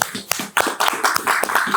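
Hands clapping during a boxing training session, a quick run of sharp, close claps in an irregular rhythm, loud and alone with no talk.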